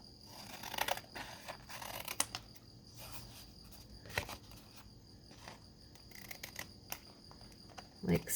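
Scissors snip through paper tags in short, quiet crunching cuts, spaced irregularly, with faint shuffling of paper in between.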